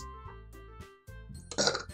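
A short, loud burp breaks out near the end, following a stretch of synthesized tones and musical notes.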